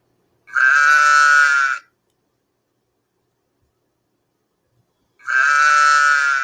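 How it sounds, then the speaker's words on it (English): A sheep in a farm pasture gives two loud, close bleats, each about a second long, separated by several seconds of silence. "Look, the sheep and cows are out in the pasture, gazing together."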